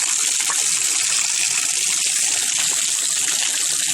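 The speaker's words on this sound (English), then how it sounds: "I put the water pressure back on, and believe it or not, even more stuff's coming out." Water gushes steadily and loudly from an RV water heater drain once pressure is restored, flushing out chunks of debris in a continuous close hissing rush.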